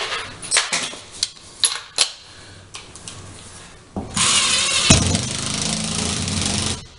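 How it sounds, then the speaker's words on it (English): A power drill drives screws into a drywall patch: first a run of sharp taps and short bursts, then a loud, steady whirring close by for a few seconds. "So let me get some screws in there."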